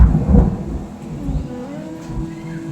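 Loud low thunder rolls through a brief stretch after an unseasonal rainstorm, rising early then settling into a steady grumble, with no talk.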